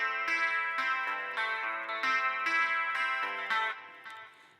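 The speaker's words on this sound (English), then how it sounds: "This is only the highs which are directed to the Roland Jazz Chorus." Electric guitar with only the high band routed through a Roland Jazz Chorus amp, bright repeated strummed chords with crisp attacks and shimmering sustain, close and clean, ending as a chord rings out.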